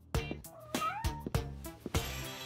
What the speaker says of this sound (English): You're just a cat.